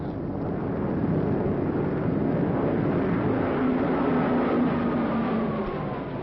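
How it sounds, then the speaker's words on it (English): Japanese military planes fly overhead, a dense continuous engine roar with a slowly shifting drone, loud and unbroken throughout. "These are Japanese planes."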